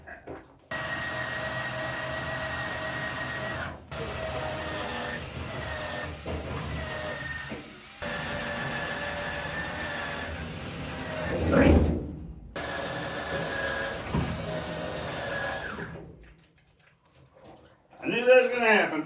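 A cordless drill runs in long steady whirring bursts as it bores holes into wood for a chicken coop, close and loud, stopping and starting several times, with a voice heard between bursts.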